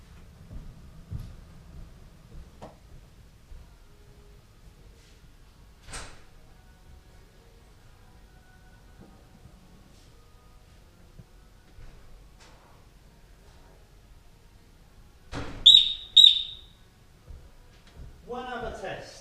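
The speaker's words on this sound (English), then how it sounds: "open it as normal to prove it's on, okay, and then open it as if I'm a burglar" A door is opened to set off a Guardian Angel security alarm indoors: faint handling and door knocks, then two short loud high-pitched electronic beeps near the end, followed by someone speaking.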